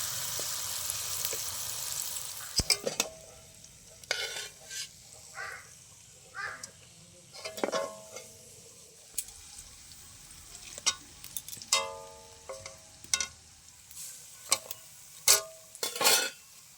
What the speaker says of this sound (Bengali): জিলিপি তো সব ভাজা হয়ে গেল।